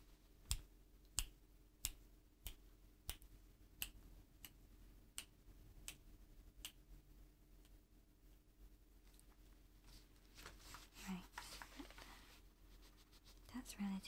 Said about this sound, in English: I'm going to click near your ear and move away